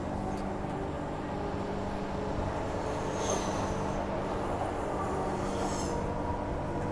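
A two-car Transperth ARM A-series electric train runs between Perth and Cannington, heard from inside as a steady rumbling drone with faint high electric motor whine rising briefly twice.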